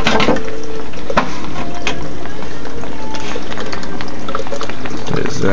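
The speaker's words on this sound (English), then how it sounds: "pump in there back there just to move that water around so it's not all dead water back there" A small pump in the sump of a Biocube aquarium with a custom sump and refugium churns the water, making a loud, steady bubbling and sloshing close by.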